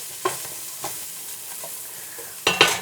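Lentils and turmeric toasting in a pan for a Burmese-style coconut milk lentil curry, with a few soft stirring scrapes early on, then a louder burst of dry rattling and scraping near the end, no talk.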